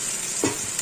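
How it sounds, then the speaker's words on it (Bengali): Ginger paste fries in a hot pan with a steady, close sizzle and a brief stir partway through. "আদা বাটাটা একটু ভালো করে ভেজে নেব।"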